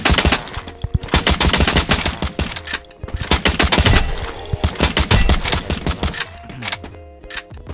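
M4 rifle fire in the mobile game Free Fire: loud, rapid automatic bursts of sharp shots, held for long sprays with brief pauses between them, close and dense, with no voices.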